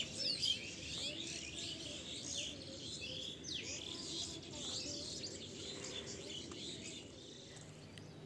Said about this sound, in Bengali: একদম চুপ, পাখির ডাক শোনো।